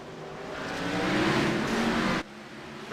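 Race cars roar as they accelerate at a green-flag start at Martinsville in an ARCS event; the loud, broadband engine noise swells for about two seconds, then drops sharply before another car rises again at the end.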